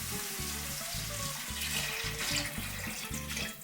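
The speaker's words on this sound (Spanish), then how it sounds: "Vamos a agregar las 3 tazas de agua" Three cups of water are poured into a pot of softened leek, a steady close splashing and gurgling stream running for several seconds with faint sizzling beneath.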